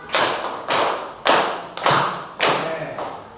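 Five loud, evenly spaced group hand claps ring out in a classroom clapping game, each a sharp burst with a short decay before the next, close and without talking.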